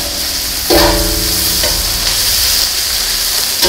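Bacon sizzling and frying in a hot pan over an outdoor Muurikka griddle, a steady loud crackle that jumps sharply as the meat hits the surface and then holds as a continuous hiss.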